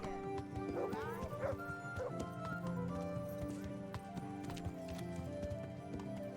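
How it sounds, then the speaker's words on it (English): Horse hooves clip-clop steadily in Kingdom Come: Deliverance, with a couple of whinnies early on, all set against a continuous in-game musical and ambient bed. "Mighty, mighty noble steed."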